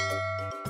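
A bell rings in a short, loud, resonant strike with a sustained tone, then a fresh strike begins at the very end.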